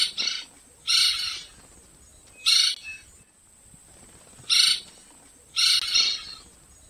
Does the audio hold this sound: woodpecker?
yes